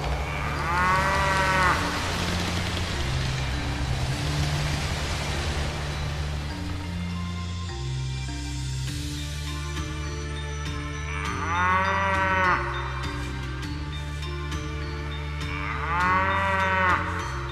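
Cow mooing loudly three times, long drawn-out calls spaced several seconds apart over a steady droning musical background.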